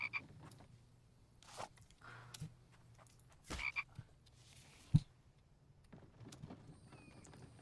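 Frog croaks in the survival game The Infected, a few soft low calls scattered among faint thumps and clicks, with one sharp knock midway, all fairly quiet.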